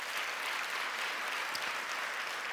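Audience applause at a church prayer gathering, a dense, steady clapping from a large crowd that holds at an even level for the whole stretch with no voices over it.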